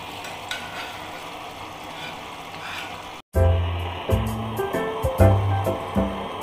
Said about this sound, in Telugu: ఇప్పుడు గోంగూర మిక్స్ చేసుకోవాలండి